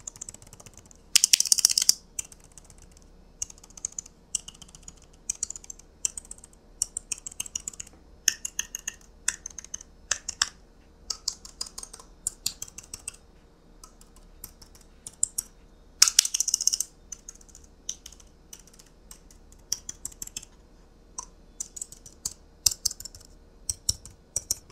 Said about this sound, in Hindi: कीबोर्ड की अगर आवाज़ की मैं बात करूँ तो आवाज़ एक बार मैं सुना देता हूँ।